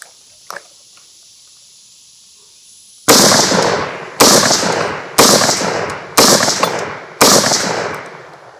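An R1 Paraclone FAL rifle fires five loud, sharp rounds at roughly one-second intervals, each blast followed by a short decaying echo. A faint click is heard before the shots, and nobody speaks.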